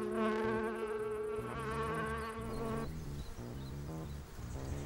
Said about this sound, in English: Half an hour later, and the bees swarm.